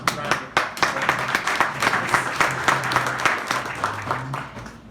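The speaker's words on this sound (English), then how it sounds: "you all should be giving yourselves some round of applause" Audience members at a press conference applaud, a run of close, crisp claps that starts strongly and settles into steady, fairly rhythmic clapping, with some voices underneath.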